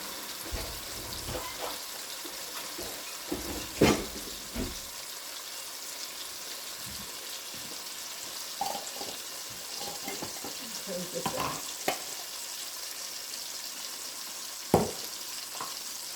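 Six tablespoons of butter melting in a pan for chicken Alfredo give a faint, steady sizzle and hiss, broken by a few scattered clinks and stirring knocks.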